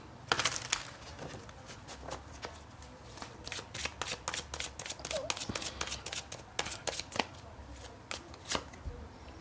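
Tarot cards being shuffled and drawn, a rapid series of crisp riffling snaps and slaps close up that comes in bursts throughout, with a faint low background hum.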